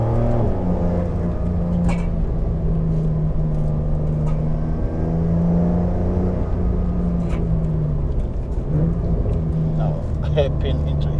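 Porsche 911 Targa 4S engine pulling out of a mountain hairpin on the Jebel Hafeet road in the UAE, a steady loud cabin drone with a rising harmonic tone and light road rumble.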